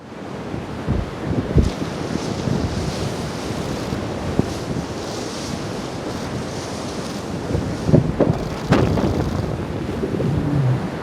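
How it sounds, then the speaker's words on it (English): A set of waves rolls through an artificial surf wave pool, a continuous broad wash of surf and water with gusty wind noise on the microphone and a few sharper splashes and knocks. "Righty, we're ready for our next set waves."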